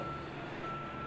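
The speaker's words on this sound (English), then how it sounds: "And so the truck backs in" A truck backing in with a steady reversing beep, a single pure tone held throughout over a dusty, constant rumble of engine and background noise.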